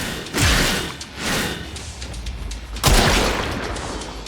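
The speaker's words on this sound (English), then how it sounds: "There should be useful detritus falling from the explosion." Explosions in the Warframe game: a heavy booming blast with a crackling tail, a second softer rumble, then another loud burst near the end, dense and close throughout.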